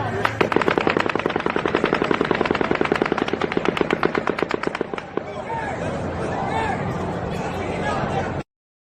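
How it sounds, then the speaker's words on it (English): A volley of automatic gunfire from the Las Vegas mass shooting at Mandalay Bay: a long, rapid, evenly spaced burst of distant shots rattling for about five seconds, then stopping, leaving crowd noise and faint voices behind. "the 12th and final volley of automatic gunfire from Mandalay Bay begins"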